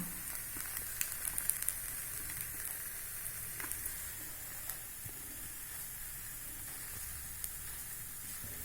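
Chili powder and asafoetida powder roasting in a hot pan for garlic idli podi, producing a faint, even sizzle and soft hiss with a few light crackles, no talking.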